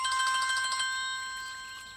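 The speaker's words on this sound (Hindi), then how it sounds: "अरे फोन है।" A phone ringtone plays indoors, a bright electronic melody of repeating tones, loud at first then trailing off.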